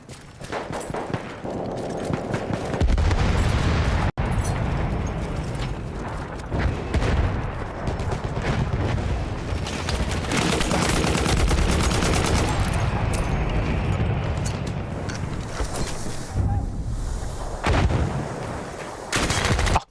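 Dense, continuous gunfire from the video game Battlefield 1, with rapid automatic bursts and heavy booms filling the whole stretch at loud, close range, no speech over it.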